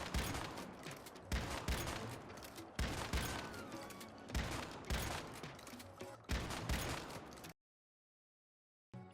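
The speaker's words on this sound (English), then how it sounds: "I'm gonna shoot 10 bullets on this dummy and see how much damage it does" Ten-round volleys fired into a training dummy in the game Once Human, loud rattling bursts in repeated clusters over about seven seconds, then abrupt silence.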